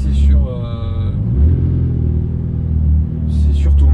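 Ferrari 488 Pista engine in race mode, a loud close low rumble with rising revving harmonics early on, then a steady heavy drone, with brief bursts of background noise.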